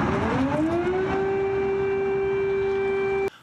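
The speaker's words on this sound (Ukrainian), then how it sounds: "Натомість заревіли сирени." An air raid warning siren sounds over Kyiv, a rising wail that climbs and then holds a steady tone, loud and continuous for about three seconds before cutting off abruptly.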